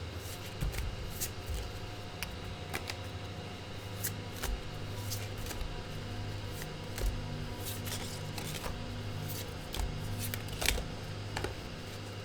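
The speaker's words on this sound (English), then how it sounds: "Let's pull you some cards from the Spiral Tarot." Spiral Tarot cards being shuffled and drawn, a steady run of soft papery riffles and sharp flicks over a low background hum, close and fairly quiet with no talking.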